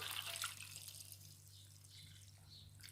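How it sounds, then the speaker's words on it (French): Cooled brine poured into jars of sliced zucchini being packed for lacto-fermentation, heard as a soft, close liquid splashing and trickling that eases into a quieter steady flow. "ma saumure a refroidi. On remplit nos bocaux."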